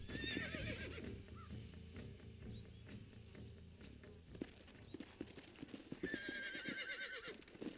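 Horse neighing and whinnying with clip-clopping hooves in the Western video game Red Dead Redemption, a loud whinny at the start and another near the end, hoofbeats and game sounds running steadily between them.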